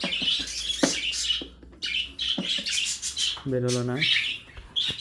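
Pet birds in an aviary holding a pair of lutino Fischer's lovebirds squawk and chirp in sharp bursts near the microphone, while someone speaks briefly between the calls.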